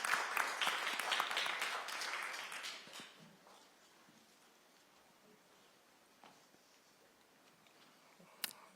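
Applause from an audience welcoming Seoul National University professor Kim Kyung-min at a Seoul policy vision event, a moderate burst of clapping that fades within about three seconds, leaving faint room noise and scattered claps.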